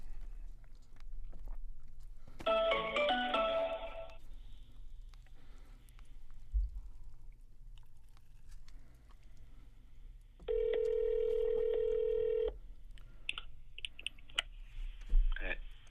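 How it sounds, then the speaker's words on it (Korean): A telephone call being dialed and connecting: a burst of clicking and tones, then a steady ringback tone lasting about two seconds, with brief talk and room noise around it. "제가 전화를 바로 연결을 해보겠습니다."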